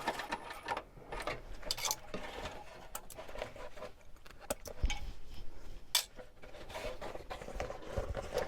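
A home sewing machine back stitching across a fabric wristlet, with rapid clicking and pattering needle bursts and brief stops for reversing, close and fairly quiet, with no talking.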